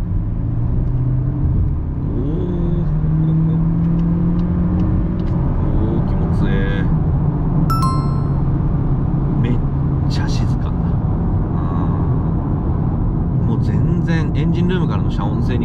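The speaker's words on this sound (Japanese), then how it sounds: "じゃあここから、キックダウンスイッチまで踏んで加速してみましょう。" A VW Golf 8 eTSI R-Line under kickdown acceleration gives a steady, loud engine and road drone with rising tones as it speeds up, while someone talks over it from inside the cabin.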